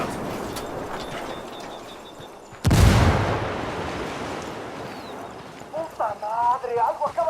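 A grenade blast in the video game Ghost Recon Wildlands: one sudden loud explosion that decays over a couple of seconds amid quieter combat ambience, followed by someone shouting.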